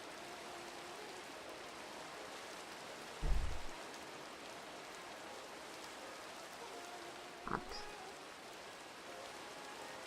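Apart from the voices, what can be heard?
rain in Minecraft, a video game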